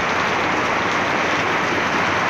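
A heavy downpour from a typhoon over Pasig hisses in a thick, unbroken wash of noise, close and loud for the whole moment, alone.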